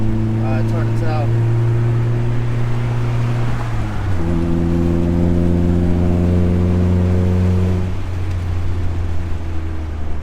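A Honda Civic on a test drive on the road, needing an alignment and pulling to the right, hums with a steady low engine drone and a shift in pitch partway through, under continuous road and wind noise.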